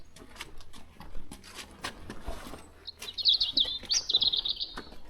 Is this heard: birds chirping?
yes